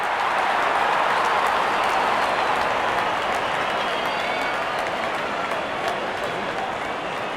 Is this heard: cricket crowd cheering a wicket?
yes